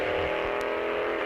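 A purple Dodge Hellcat roars down a drag strip at Greer Dragway, its engine a loud, steady, high-revving drone held at full throttle for the whole brief moment, with no pauses or voices.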